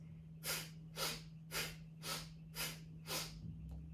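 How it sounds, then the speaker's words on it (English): Bastrika breath of fire, a forced inhale and forced exhale through the nose, heard as six close, loud, evenly timed breathy rushes in a steady rhythm, with a quiet steady hum underneath. "Bastrika is a forced inhale, forced exhale"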